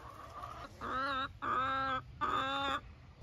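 Chickens cluck close by in three drawn-out, raspy calls separated by short pauses, over a faint background hum.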